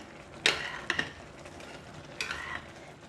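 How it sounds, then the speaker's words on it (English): Chicken rice boiling in a clay pot is stirred with a few brief scraping strokes, a sharp clatter near the start and another pair later, over a low bubbling background. "So we're gonna open it up and give it a stir."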